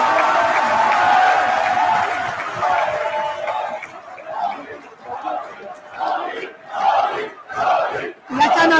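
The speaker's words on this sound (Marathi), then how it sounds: "आपण टाळ्या वाजवून जोरदार स्वागत करूया" A crowd welcomes the captain of India's T20 World Cup 2024 winning cricket team with loud cheering and shouts, sustained at first, then surging in repeated bursts as a voice speaks over the hall.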